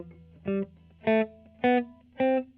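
Four short plucked string notes come in an even rhythm, each cut off quickly with no sustain so they sound choppy and dead, played alone.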